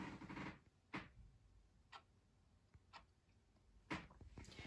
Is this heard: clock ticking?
yes